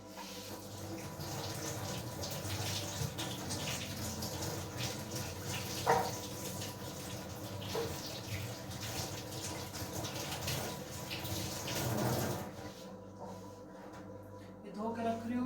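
Carrots are rinsed under a running kitchen tap: a steady stream of water splashes for most of the stretch, then cuts off near the end, with someone talking over it.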